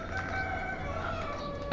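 A rooster crows in one drawn-out call over steady background noise, with a sharper sound cutting in at the very end.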